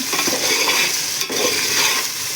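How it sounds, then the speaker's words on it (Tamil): Pulav masala frying in a pan, with a steady close sizzle and the scrape of stirring running throughout, briefly dipping once midway. "நல்லா ஃப்ரை பண்ணிவிட்டு நாங்கள் அதுக்கப்புறமா தக்காளி ஆட் பண்ண போகிறோம்."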